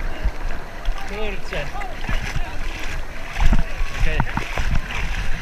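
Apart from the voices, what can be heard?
waves splashing while surfing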